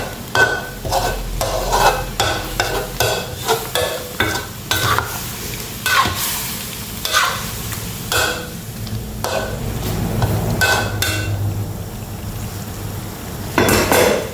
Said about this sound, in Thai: เดี๋ยวจะทำหมูผัดพริกกัน